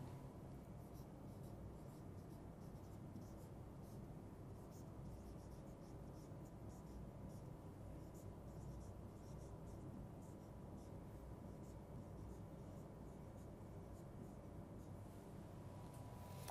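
Marker or chalk writing on a board during a grammar lecture, faint scratchy strokes in a steady run beneath a constant background hiss and room noise, quiet and close throughout.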